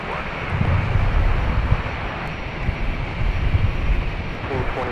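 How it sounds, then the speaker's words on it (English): A TAP airliner takes off at Los Angeles International Airport with a steady, rumbling jet roar at moderate distance, rising and falling gently throughout. "And there goes TAP. We have liftoff."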